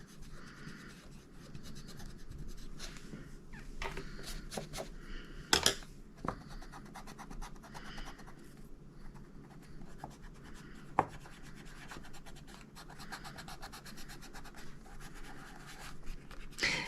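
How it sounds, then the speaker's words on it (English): A small fine eraser rubs soft pastel off paper in a coloring book, producing faint, steady scratchy scrubbing strokes with a few sharper ticks, close and quiet throughout. "I use this little fine eraser to remove the rest"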